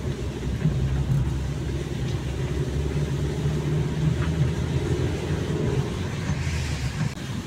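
A car drives along a village road, its engine and tyres making a continuous low rumbling drone from inside, steady and unbroken across the stretch.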